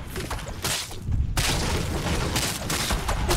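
Rapid gunfire in a Fortnite match, loud dense bursts of shots that keep coming over steady in-game noise, with a brief lull before a long unbroken stretch of firing.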